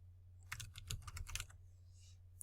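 Quick, faint clicking of typing on a computer keyboard, about a dozen keystrokes in a short burst with a pause, then a final tap.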